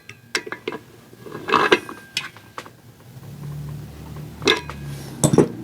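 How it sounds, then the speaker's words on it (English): A crescent wrench works on a nut on a Primus camping stove, producing sharp metallic clinks and scrapes in uneven bursts, close and fairly loud, with quiet gaps and a low hum between strikes. "I ended up using just a crescent wrench"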